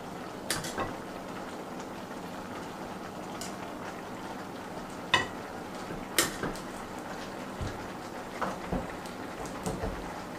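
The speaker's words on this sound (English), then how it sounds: "And we're just going to go and stir that on in there." Cabbage greens with turkey tails being stirred in a cooking pot, a steady low bubbling simmer broken by scattered soft clinks and scrapes of a utensil against the pot, no talking.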